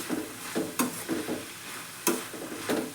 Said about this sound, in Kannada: ಅದಕ್ಕೆ ಕರಿಬೇವು ಸೊಪ್ಪು, ಸ್ವಲ್ಪ ಎಣ್ಣೆಯನ್ನು ಹೆಚ್ಚಿಗೆ ಹಾಕ್ಕೊಳ್ಳಿ